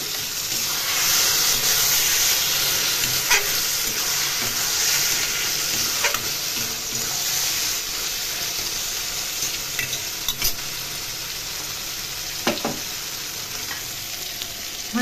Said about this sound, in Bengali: তেলের মধ্যে কালো জিরে ফোড়ন দিলাম। ফোড়ন একটু ভেজে দেব।